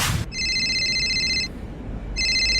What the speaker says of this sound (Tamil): திடீர்னு அந்த கோச்சே ஃபோன் பண்ணாரு